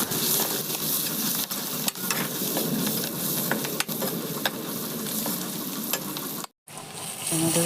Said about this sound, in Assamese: প্ৰথমতে তেলত পাঁচফোৰণ, পিঁয়াজ আৰু হালধি দি অলপ সময় ভাজি আছোঁ